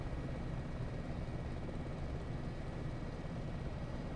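An AS365 N2 helicopter engine in a flight simulator game drones as a steady, dense turbine and rotor hum, loud and unbroken for the whole stretch with no voices.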